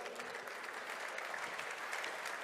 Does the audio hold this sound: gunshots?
no